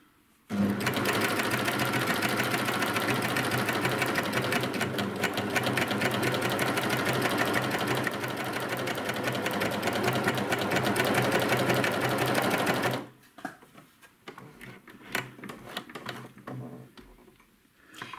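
A sewing machine stitches binding along an outer curve with a steady, fast mechanical whir and ticking close by, running continuously for about twelve seconds before stopping and leaving faint handling noise.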